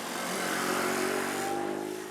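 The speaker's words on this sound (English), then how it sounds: "You got Terry Francona riding his scooter to the ballpark" A motor scooter ridden to a baseball ballpark at spring training: a steady, loud, buzzing engine drone held evenly throughout, with no talking.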